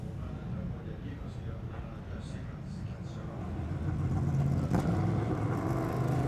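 A P1 Motorsports Ligier prototype race car pulls out from behind the safety car at Circuit Trois-Rivieres, a steady distant engine drone and road rumble that swells slightly louder midway.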